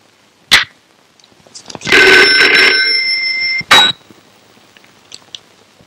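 A phone rings electronically in one sustained burst of a couple of seconds, set between sharp clicks and handling noises.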